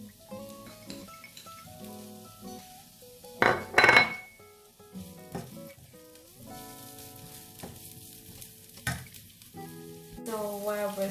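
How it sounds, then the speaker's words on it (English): Onions sizzling in a hot pan for Filipino tortang talong, a soft steady fry with a brief louder burst of sizzle and occasional utensil clinks and stirring, fairly close. "So while we're still cooking our onions"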